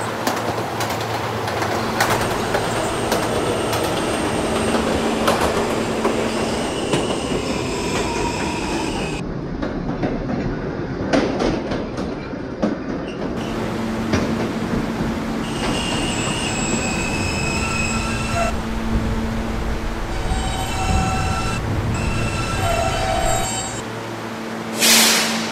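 An R160 New York subway K train runs with loud rumbling and rattling, while its wheels let out several sustained, high-pitched squeals and screeches throughout the ride, heard from inside the car.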